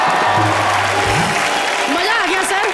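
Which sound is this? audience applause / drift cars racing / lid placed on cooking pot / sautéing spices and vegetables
audience applause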